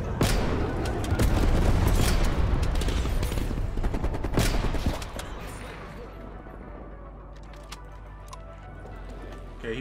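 Napalm strike explosions in Call of Duty Cold War: dense, rolling bursts of booms and crackling fire for several seconds, loud and close, then fading to a lower rumble with scattered pops and ticks.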